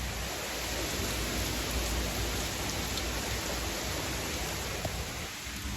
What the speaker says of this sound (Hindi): और तेज़ हो गई बारिश।